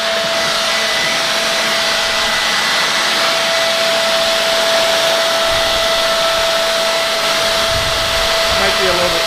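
A hair dryer blows steadily to dry wet camouflage paint on a rifle, a continuous loud whirring hiss with a fixed motor whine, held close to the surface throughout without a break.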